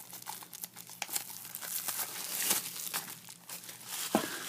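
Plastic shrink wrap being peeled and crumpled off a comic book, a steady crinkling and tearing close up, with a sharper rip near the end.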